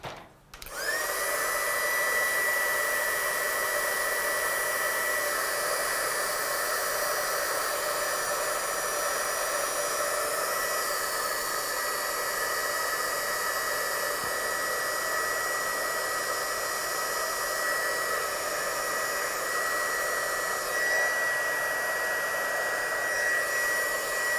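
A hair dryer blowing steadily on wet paint, starting with a click and then holding a loud, constant whirring drone close by for the whole stretch, alone without talk.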